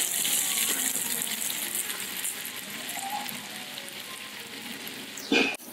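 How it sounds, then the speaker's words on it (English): Beef sizzling on a hot plate at a restaurant table in Sendai, Japan, a steady close hiss and crackle of frying meat with a brief sharper spatter near the end. "I heard sizzling from afar and I was approaching my table"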